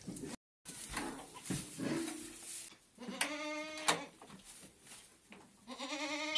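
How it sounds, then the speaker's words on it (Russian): Goats waiting to be milked bleat repeatedly at close range, several drawn-out wavering calls overlapping, with a brief dropout near the start. "и козы уже ждут, чтобы я их подоила"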